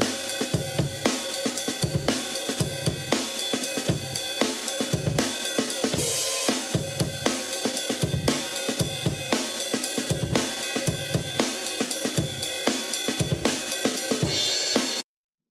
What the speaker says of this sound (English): it's just like a very classic drum and bass type drum break